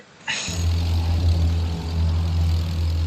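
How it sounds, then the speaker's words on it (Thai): An old propeller airplane in the Battlefield 1 video game, a loud steady engine drone that kicks in abruptly after a short burst and holds for several seconds. "โอ้เครื่องบิน"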